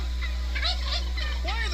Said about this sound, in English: Why are there a bunch of turkeys around here, Brandon?